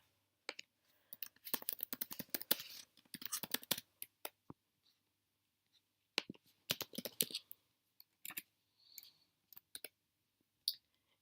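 Quick bursts of typing on a Mac computer keyboard, crisp close clicks in short rapid runs separated by pauses, quiet and with nothing else heard.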